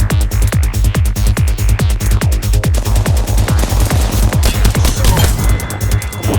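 Rapid automatic gunfire from an Apex Legends match, loud and close, a steady stream of sharp shots with short pauses for reloading and no talk over it.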